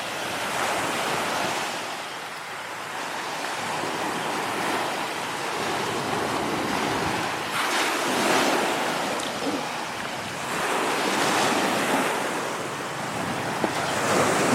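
Surf rolls in at a beach resort during high tide, the wash swelling and easing in slow surges with wind noise on the microphone, loud and continuous with no talking.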